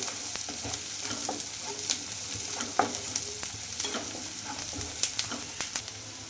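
Dried red chili frying in oil for a spinach and onion curry, with a steady close sizzle and scattered crackles and stirring scrapes throughout, no talk.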